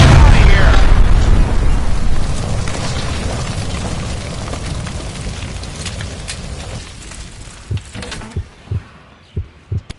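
A huge gas line blast tears through a mansion in L.A. Noire, starting as a loud roaring boom that slowly fades, followed by a few sharp thuds and pops near the end.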